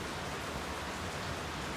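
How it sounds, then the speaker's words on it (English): Rain falling steadily and hitting the ground, a dense, even hiss without breaks, fairly faint. "As one stands there and watches every single raindrop hit the ground"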